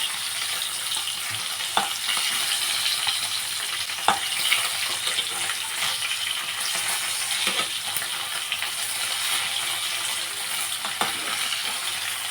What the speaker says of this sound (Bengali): মাছগুলোকে এখন আমি ভেজে নিচ্ছি।